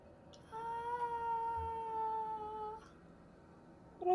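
A cat lets out a single drawn-out meow lasting a couple of seconds, clear and close in a quiet room, and a brief second call starts at the very end.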